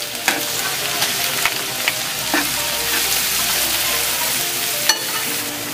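Garlic, with ginger already in, sizzles in a hot pan for a Filipino shrimp-paste dish, a steady close frying hiss broken by clatters of stirring.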